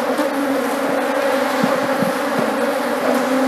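Honey bees buzz loudly and continuously at close range while a beekeeper divides a strong colony into two new hives, a dense steady drone with occasional louder passes.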